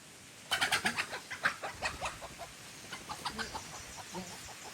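A chicken bursts out of a wooden house in the forest, letting out a rapid series of loud, close clucks that gradually slow and soften over a few seconds.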